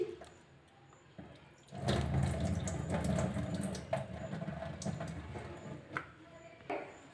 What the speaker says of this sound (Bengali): এই যে পেঁয়াজটা একটু ধুয়ে নিচ্ছি।